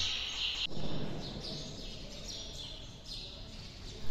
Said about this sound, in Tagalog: panay huni lamang ng ibon ang maririnig ninyo.